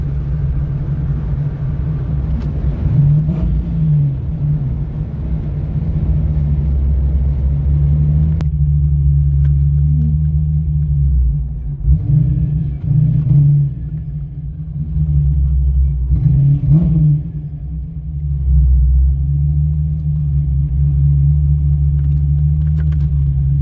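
A 33-year-old Ford Mustang Fox body with a TKX gearbox rumbles loud and close while driving, a deep steady engine drone with several revs rising and falling, no talking.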